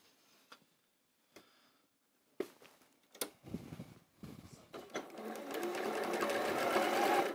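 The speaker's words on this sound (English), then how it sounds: "So I'm going to sew these together, but it's not going to be square." A sewing machine joins quilt block pieces, starting with a few short separate bursts of stitching, then settling into a steady, close, continuous run that grows louder toward the end.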